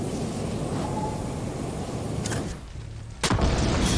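A loud, rumbling explosion in Far Cry 6 fills the scene, broad and noisy, then drops away before a second sharp blast hits near the end.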